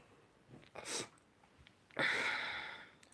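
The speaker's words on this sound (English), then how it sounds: "Trying to sneeze." A sharp burst of breath followed by a louder, drawn-out sneeze that tapers off, heard close with no talking.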